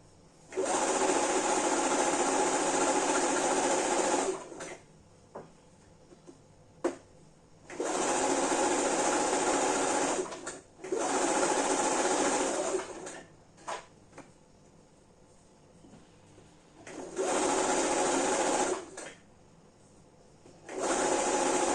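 A sewing machine stitches the side seams of a ruched crop top refashioned from a maternity dress. It runs in four bursts of rapid, even whirring, each a few seconds long, with faint handling clicks in the pauses.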